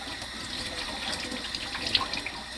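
Dishes are washed one at a time under a running kitchen tap. Water streams steadily at a modest level with small splashes and clinks, and there is no talk.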